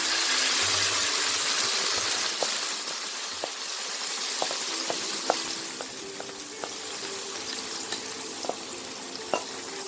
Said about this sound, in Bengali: আদাটা ভাজা হয়ে গেছে, এবার আমি লাউটা দিয়ে দিই।